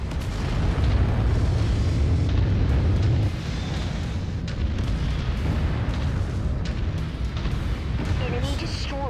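An enemy mech is destroyed in the MechWarrior 5 video game, with heavy booming explosions and continuous rumbling battle noise, loud and close, under overlapping voices.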